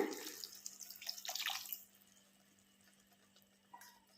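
Water pours into a cooking pot for a tamarind okra curry, a bright splashing stream for about two seconds that then stops, leaving a faint steady hum.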